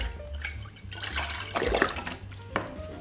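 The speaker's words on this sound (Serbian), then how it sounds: "U šerpicu sipajte pola litre mlijeka" Half a litre of milk pours into a small pot, a steady close liquid stream with soft gurgling and splashing lasting a few seconds, heard alone without talk.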